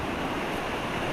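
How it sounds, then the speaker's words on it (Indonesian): A river flowing down from Mount Bromo, through a forest setting among buildings, makes a steady, dense rush of water that fills the whole moment without a break. "ini adalah aliran sungai dari Gunung Bromo."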